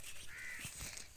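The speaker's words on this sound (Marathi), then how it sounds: "कावले बघ कसं चाललेत." Crows cawing outdoors on a farm plot, a faint, distant caw rising briefly over soft background noise.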